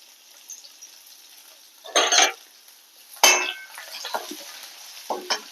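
A spoon scrapes and stirs garlic and onion in a hot pan, with two louder scraping strokes, a faint sizzle beneath, and a few lighter clinks afterward, close by.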